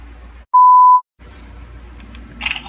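A single steady electronic tone from a phone call ringing on the line, sounding for about half a second and then stopping, followed by faint background noise.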